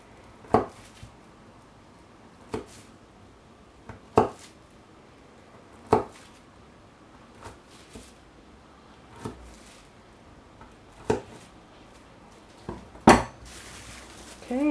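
A knife slices through homemade herb butter on a cutting board, giving soft, separate taps at a slow, fairly steady pace of about one every one to two seconds. Each tap is faint and close against a quiet kitchen background.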